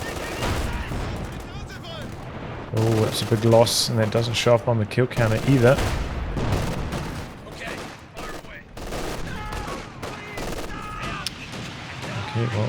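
Battle in Company of Heroes 2 with rapid gunfire and a Calliope rocket barrage rumbling and crackling throughout, dense bursts layered under a commentator talking steadily over the action.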